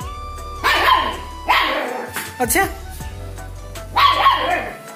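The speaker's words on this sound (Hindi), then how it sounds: "वो मुझ पर भौंक रहा है" A month-old German shepherd puppy barks in sharp, separate yaps, about four of them spaced apart, close by, with a person speaking briefly between barks.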